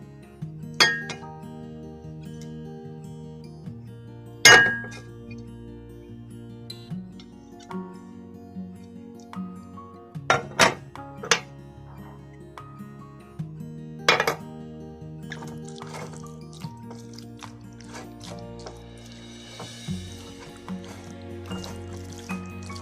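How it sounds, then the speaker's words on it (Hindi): A spoon or whisk stirs salt, black pepper and garlic paste in a bowl, making repeated clinks and scrapes against the side. Soft kitchen tones hum underneath throughout. "अब हम इन सबको इसके अंदर मिक्स कर देते हैं।"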